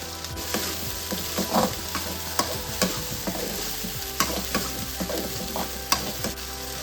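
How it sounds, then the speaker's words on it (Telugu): Onion tomato paste fries in a pan with curry leaves for a spicy kurma, with a dense, continuous sizzle and frequent scraping taps of a stirring spoon, close and busy. "ఇప్పుడు ముందుగా పేస్ట్ చేసి పెట్టుకున్న ఆనియన్ టమోటా పేస్ట్ వేసుకుందామండి"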